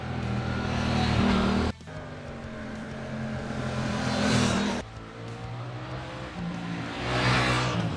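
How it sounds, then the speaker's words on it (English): A 2023 Suzuki GSX-8S motorcycle with a 270-degree crank engine revs hard in loud rising pulls, cutting off sharply between gear changes and climbing again, close to the microphone. "The engine is also special because it's got a 270-degree crank,"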